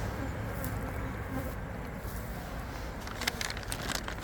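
Native Korean honeybees swarming at a wooden hive, a steady dense buzz filling the air close by with faint crackling, continuing unbroken throughout.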